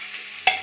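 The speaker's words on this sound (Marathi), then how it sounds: "हलवून घेऊ आपण." A spoon scrapes once through mutton curry in a frying pan, a short stirring sound over a low sizzle, close and brief.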